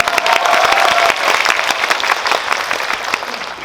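Audience applause at a cinema guest-visit live talk for the film Parasite at CGV Yeongdeungpo: dense, loud, sustained clapping from a large crowd filling the whole stretch, with a brief voice near the start.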